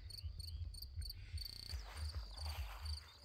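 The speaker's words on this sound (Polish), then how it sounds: "posłuchać tych świerszczy, które tu grają" Crickets chirp in a garden at a small countryside homestead, a dense high-pitched trilling chorus with pulsing rhythm, heard outdoors alongside low rumbling background noise and no talk.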